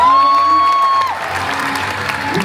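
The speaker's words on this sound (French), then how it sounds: "Allez, on va applaudir bien pour les gyms encore une fois." Audience in a hall applauding gymnasts at a regional UFOLEP gymnastics competition, a steady wash of clapping that swells after a sustained tone fades at the start.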